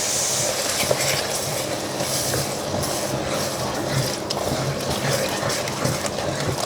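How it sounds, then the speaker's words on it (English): Cream bubbling and sizzling in a hot pan with beef stock powder and salt, a steady, dense hiss of small bubbles running continuously at close range with faint stirring. "lower your heat because it will bubble almost instantly"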